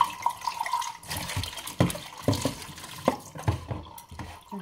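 A small trickle of tap water runs into a sink during dishwashing after breakfast, with faint steady flow and occasional louder clinks and splashes from dishes, close by and with no talking.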